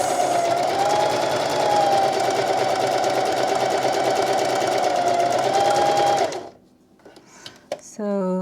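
A sewing machine stitching stretchy upcycled denim for an iPad sleeve runs in a steady, loud whirring drone for about six seconds, then stops, followed by small clicks and handling noises.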